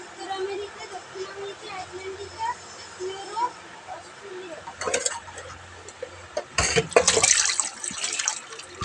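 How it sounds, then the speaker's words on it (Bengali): Bought water poured into several bottles at home, a steady trickling fill with a louder splashing burst near the end, while people talk throughout. "জলটা ঢেলে ঢেলে ভরে নিচ্ছে"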